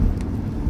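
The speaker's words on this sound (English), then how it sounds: "it's just light rain" Steady light rain patters outside in Georgia with a low rumbling wash beneath it, constant and fairly close, no voices.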